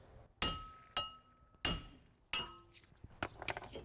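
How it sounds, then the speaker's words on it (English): Four sharp metallic taps ring out on a brake rotor being knocked loose from a 2006 Toyota Prius hub, evenly spaced, each with a short ringing decay, followed by a few lighter clinks. "let's get our rotor off. A few taps should do it"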